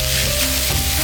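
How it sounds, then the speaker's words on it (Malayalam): Grated ash gourd (kumbalanga) sizzles loudly in a pan for halwa, a close, continuous frying hiss with a soft stirring scrape and no talk. "എന്നിട്ട് നല്ലപോലെ ഒന്ന് ഇളക്കി കൊടുക്കാം"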